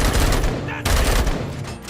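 Dense, continuous automatic gunfire in the video game Robocop Rogue City, loud and sustained with a brief dip midway, a chaotic combat firefight.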